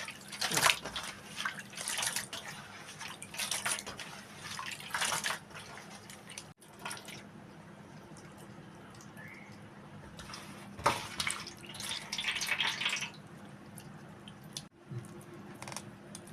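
Raw prawns are rinsed and squeezed in salted water while making prawn pickle, giving repeated splashing, dripping and sloshing bursts in an irregular rhythm, close and moderately loud, with short quieter gaps.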